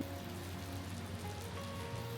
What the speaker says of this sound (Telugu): అసలు ఒక రేంజ్లో వర్షం పడుతుంది